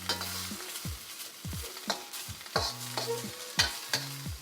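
An egg fries in a hot wok beneath flat rice noodles for Malaysian char kway teow, giving a close sizzle with sharp scraping strokes and clatter at a roughly one-per-second rhythm.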